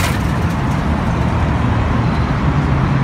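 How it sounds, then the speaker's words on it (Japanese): A bus rumbles past loudly and close on busy Route 4, the Nikko Kaido, at the Kan-7 intersection in Umejima, its engine roar blending with dense steady traffic noise throughout. "普通はまあバスはああいう音がします"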